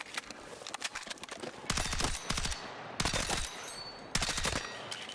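Suppressed gunfire in the Battlefield 6 video game: three quick bursts of automatic shots in an even rapid rhythm, each a tight string of muffled cracks, between softer clicks and handling noise.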